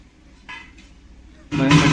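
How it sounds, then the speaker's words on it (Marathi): A pot of potato curry gets its lid set on in a home kitchen, a sudden loud metallic clatter near the end after a quiet stretch with a faint clink earlier. "थोडं 2-3 मिनिटं झाकून ठेवूया."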